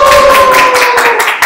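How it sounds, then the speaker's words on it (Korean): A small audience claps briefly in a bright, roomy burst of hand-clapping at a developer study-group presentation, steady and close for about a second and a half, with a faint tone running beneath it. "우와, 박수."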